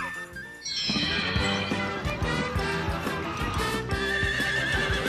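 A horse whinnies loudly with rising, wavering calls over a busy, rhythmic background of clopping hooves and other sounds, filling the whole stretch.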